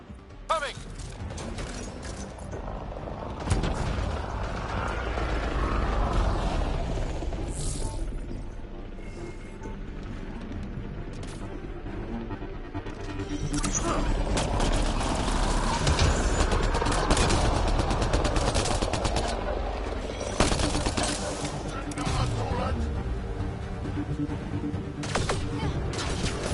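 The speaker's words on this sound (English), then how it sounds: "Cannon! Coming!" Cannon and gunfire blasts in a PS4 video game battle over a research site near a monolith, loud sharp bursts recurring through the clip over a dense, continuous combat soundscape with game voices.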